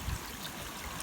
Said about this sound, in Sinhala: වතුර ටික දානවා